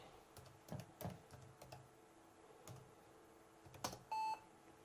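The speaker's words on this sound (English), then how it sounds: "Let me just type the password." Password typed on an old notebook keyboard: soft, quiet key clicks in an uneven rhythm, ending with a short electronic beep.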